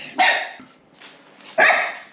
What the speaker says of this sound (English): if I could stop him from barking, I definitely would